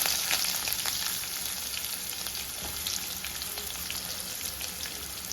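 Split green chilies and chopped onion fry in hot oil in a pan for a Kerala chickpea curry, a steady close sizzle with scattered crackling pops and no talk.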